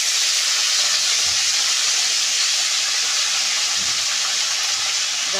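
Hyacinth bean pods with about a jug of water steam in an oiled kadhai over a strong flame, making a loud, steady hiss that runs unbroken and close.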